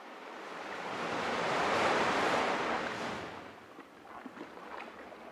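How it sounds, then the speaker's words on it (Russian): Sea surf in a Russian radio drama: a broad washing roar of waves that swells to a peak and ebbs, followed by lighter splashy surf, with no voices. "Вот оно море."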